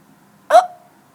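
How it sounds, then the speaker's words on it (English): A cartoon character from the Maisy series lets out a single loud, sharp hiccup with a short trailing squeak, alone against near silence. "I got the hiccups."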